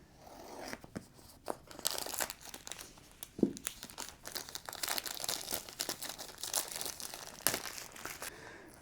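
Packaging for a DJI Osmo 360 camera is torn and opened up close, with irregular crinkling, ripping and crunching of cardboard and plastic coming in bursts.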